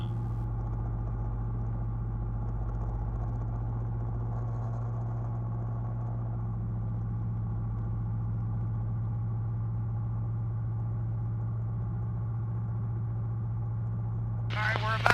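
Challenger II light sport aircraft engine with the throttle pulled back on approach, a steady low droning hum that stays constant throughout, with a brief voice near the end.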